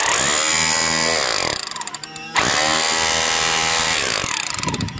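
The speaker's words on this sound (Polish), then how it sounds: "Ta wiertarka nic nie robi." A power drill in hammer mode drives a steering-wheel puller on a Bizon combine harvester, a loud steady motor roar that cuts out briefly, then revs back up and runs on.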